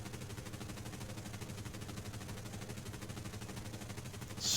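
Aircraft machine guns firing nonstop in the War Thunder video game, a dense, rapid, even burst of shots held at steady loudness for the whole stretch, heard alone without talk.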